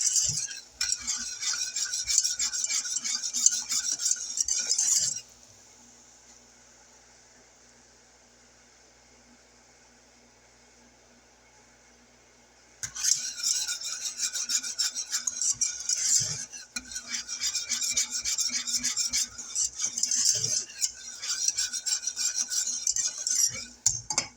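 A spoon stirs walnuts into a maple mixture in a pot on medium heat, with close scraping and clinking that stops for several seconds in the middle and then resumes steadily.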